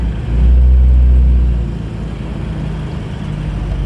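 A 1948 Willys Jeepster four-cylinder engine with manual transmission pulls off in first gear, giving a close, loud low rumble that swells briefly and then settles into a steadier idle-like drone.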